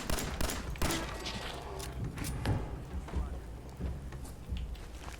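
Gunfire in the Fallout 4 video game, a dense, continuous burst of rapid shots and crackling impacts that fills the whole stretch at a moderate level.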